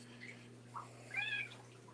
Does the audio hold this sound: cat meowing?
yes